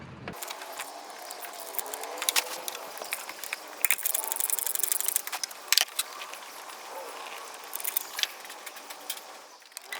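A ratchet clicks in short bursts while removing alternator bracket bolts on a 2008 Honda Element, with metallic tool clinks and rattles, close up and fairly quiet, without talk.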